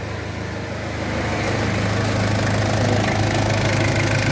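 An old car engine with a faulty glow plug relay and hard-starting trouble settles into an even, steady idle just after starting, loud and close, swelling slightly in the first second before holding a constant rumble.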